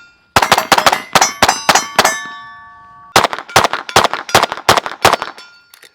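Rapid rifle shots ring 6-inch steel plates at 100 yards. Two quick strings of sharp cracks each carry a bright metallic clang that lingers, with a short pause between the bursts.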